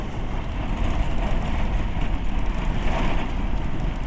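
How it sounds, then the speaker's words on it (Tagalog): A noisy, rattling motor tricycle driving along: a loud, continuous engine rumble with clattering body rattle, close up and alone for about four seconds. "Ang ingay guys ng tricycle ko guys."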